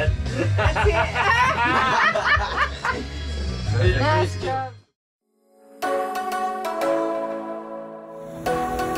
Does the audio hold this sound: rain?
no